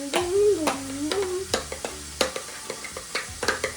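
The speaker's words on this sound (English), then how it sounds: "All right, stir it up good, Juniper. It's hard with a spoon." Fluffy slime being stirred with a spoon by a child, giving a run of wet squelches and scraping clicks, close and fairly loud, with a brief tonal voice-like sound near the start.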